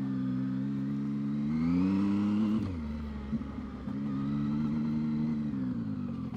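A Zontes 703F three-cylinder motorcycle pulls away in first gear, its engine note rising steadily, dropping briefly at a shift or throttle lift, then climbing again, close and loud throughout with no voices.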